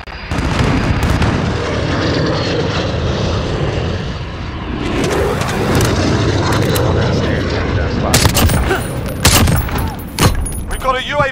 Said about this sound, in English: We've got a UAV on station, ready for fire.